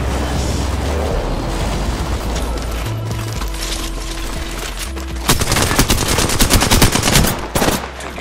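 Rapid automatic gunfire in an Apex Legends match on Xbox One, with steady game ambience and scattered shots that build into a loud, dense burst of sustained fire toward the end.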